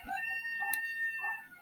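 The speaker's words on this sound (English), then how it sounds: "sorry about the rooster." A rooster crows once at a moderate distance outdoors, a short harmonic call with a brief bright high note in the middle, over steady background hum and no talking.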